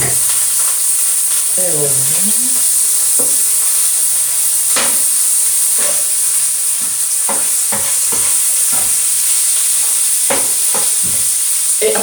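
Chopped onion fries in a pan for bolognese sauce, with a loud, steady sizzle and hiss throughout, interrupted by clinks and scrapes of stirring and a brief spoken remark.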